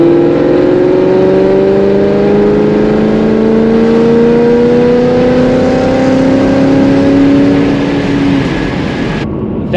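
A Ford Mustang GT running on E85 accelerates at under half throttle, its V8 rising steadily in pitch through a loud, sustained pull before cutting off abruptly at the end.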